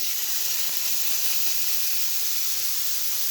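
A beef burger patty sizzles in olive oil in a cast iron pan, a loud, steady, close hiss and crackle with nobody talking.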